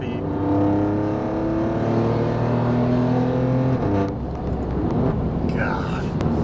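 An Alfa Romeo Giulia Quadrifoglio with downpipes and an X-pipe exhaust roars with a raspy note, holding a steady drone before fading, with some speech-like sound mixed in.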